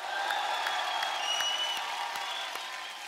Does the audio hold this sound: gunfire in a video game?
no